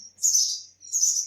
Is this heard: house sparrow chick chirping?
yes